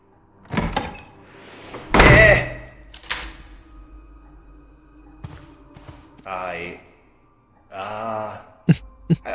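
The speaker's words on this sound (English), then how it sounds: "I suspect a gust of wind blew the door shut and then locked it" A door blown shut by a gust of wind in the horror video game Rose Cottage, heard as a loud slam near the two-second mark among other thuds and scattered game noises.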